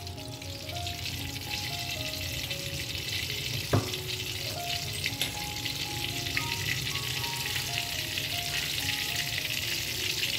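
A spoonful of ghee melts into hot oil for a vegetarian pointed gourd dish, giving a continuous moderate frying sizzle with one brief sharp click; gentle background music plays underneath.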